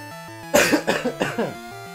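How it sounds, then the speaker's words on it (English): A man coughs several times in a short rough burst over a chiptune game soundtrack from Pokemon Crystal, close and loud, the coughs dry with no phlegm. "That sounded like a bad cough."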